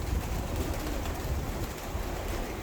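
Pigeons coo softly inside a pigeon coop, low murmuring calls blending into a dense, steady ambient rumble with no talking.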